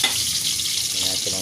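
Ginger frying in a pan as the first step of a native chicken adobo, giving a loud, steady sizzle that fills the short moment with no talk over it.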